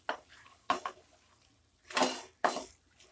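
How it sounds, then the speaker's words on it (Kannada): A spoon scrapes and clinks against a pot of tomato mixture in a few separate close strokes, with short pauses between them and no speech. "ಈಗ ಮಿಕ್ಸ್ ಮಾಡ್ಕೊತ ಇದ್ದೀನಿ ನಾನು"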